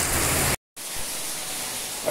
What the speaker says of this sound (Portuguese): Boa chuva, graças a Deus, chovendo.